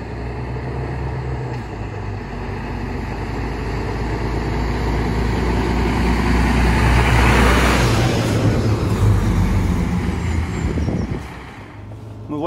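A Mercedes Arocs 2648 6x4 construction truck drives a test circuit, its diesel engine a steady loud rumble that swells and builds through the middle before easing off near the end.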